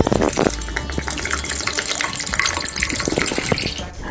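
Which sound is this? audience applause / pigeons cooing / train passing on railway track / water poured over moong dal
water poured over moong dal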